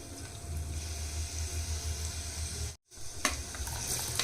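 Garlic hits hot oil in a pan and sizzles steadily while being stirred, a close, continuous frying hiss with a brief dropout and a few scraping knocks of the spoon.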